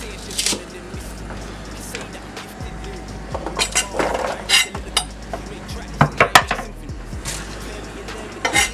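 A new knife chops scallions coarsely on a cutting board, with uneven knocks that come in small bursts amid clinks of kitchenware and background noise, close by.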